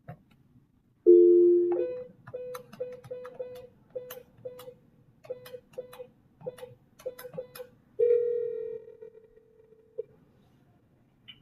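Telephone handset dialing out during a phone conference call: a sequence of short dial tones and beeps, with a longer steady ringing tone near the end, over a faint room hum.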